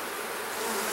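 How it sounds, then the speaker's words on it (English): Honeybees buzz steadily around an open hive during the installation of nucs, a close, continuous droning hum with no voices. "Look at this bee just lapping up on some nectar that fell out of the hive"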